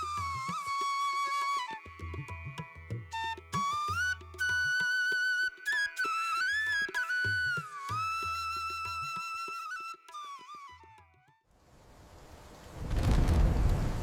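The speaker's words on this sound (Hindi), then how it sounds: "कुछ दिनों बाद अचानक अच्छी बारिश हुई।" In a Hindi village cartoon, a musical passage plays, then a heavy rumble of thunder breaks out near the end, loud and broad. Rain is not clearly heard apart from it.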